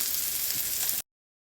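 Zucchini, onions and squash sizzle steadily in a hot pan, a dense, even frying hiss up close that stops abruptly after about a second.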